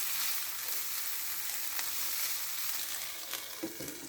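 Peas are stirred into sautéing winter vegetables for noodles, giving a soft, steady frying sizzle in a pan with a few light scrapes and taps of a spoon near the end.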